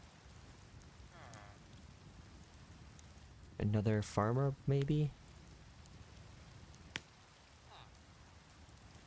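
Steady rain hisses throughout a Minecraft village at night, a soft continuous wash under a man's brief spoken remark in the middle and a single sharp tick near the end.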